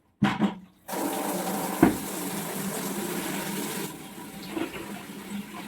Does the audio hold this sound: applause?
no